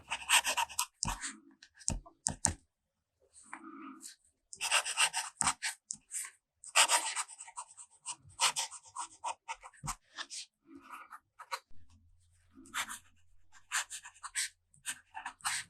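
Broad-nib fountain pen writing blue ink across paper, a dry scratchy nib rasp in quick bursts of strokes separated by short pauses, close and fairly quiet.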